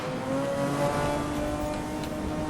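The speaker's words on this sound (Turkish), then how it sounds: "Abi tünelde bu arabanın ne? Nasıl bir sesi çıkıyor ya?" A McLaren F1 engine roars inside a tunnel in Need for Speed Most Wanted, a steady, dense, echoing drone with faint tire noise, held at an even level throughout.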